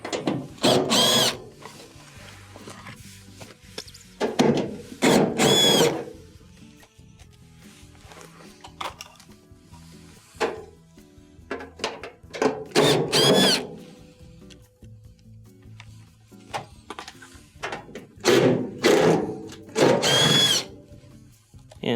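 A power drill backs out quarter-inch screws from underneath a Maytag dryer with a damaged blower wheel, sounding as several short, close whirring bursts separated by pauses and faint handling clatter.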